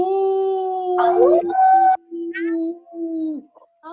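A person imitates a wolf howl for a storytelling animation, voicing a sustained, wavering howl that rises and bends before trailing off into a few shorter breaking cries, loud and close with no other sound.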